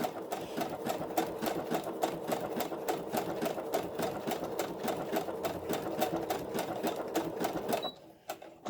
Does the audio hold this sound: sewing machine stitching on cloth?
yes